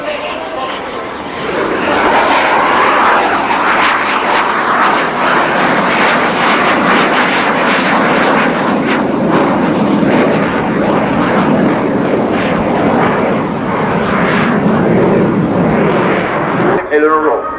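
A twin-engine M-346 jet climbs into a loop at the RIAT airshow with full thrust, a loud, sustained roaring engine noise with a rising whine that holds steady and close throughout.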